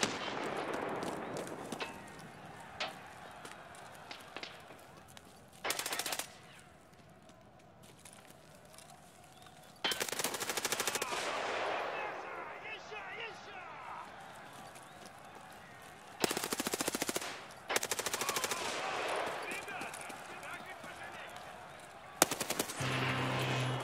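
Automatic weapon fire in the shooter game Tarkov Arena, several loud bursts of rapid shots separated by quieter stretches of game ambience over about twenty seconds, with faint voice in the background.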